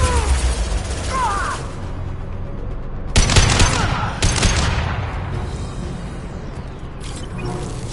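Bursts of automatic gunfire in Mass Effect, heavy clustered volleys near and loud around the middle of the clip, with a brief voice early on and lingering battlefield rumble in between.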